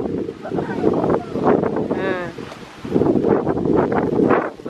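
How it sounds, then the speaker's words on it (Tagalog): Wind blows steadily outdoors at a beach with broadband rushing noise, while people talk over it throughout. "Sarap ng hangin."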